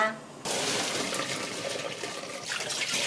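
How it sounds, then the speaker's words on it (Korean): Cold water gushes steadily over freshly boiled noodles in a kitchen, beginning abruptly after a short quiet moment and continuing as a close, full splashing pour. "찬물을 부어주세요."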